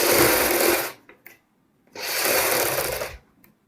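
A sewing machine stitches a neckline onto kurta fabric in two bursts of busy mechanical whirring, each about a second long, with a quiet pause and faint handling clicks between them.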